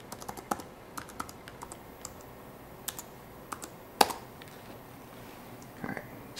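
Fingers tap out a password on a MacBook Pro keyboard that is not booting, producing sparse, irregular key clicks, close but soft, with one sharper press near the middle.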